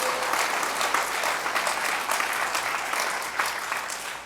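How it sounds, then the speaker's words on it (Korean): A church congregation at a Sunday worship service claps together in steady, dense applause that fills the room and holds throughout, with no talking over it. "다시 한번 큰 박수로 우리 감사의 마음 표현합니다."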